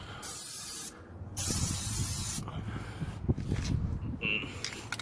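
Bursts of aerosol Fluid Film undercoating hiss close by under a Jeep Gladiator, two long blasts separated by a brief pause, followed by quieter shorter sprays and shuffling.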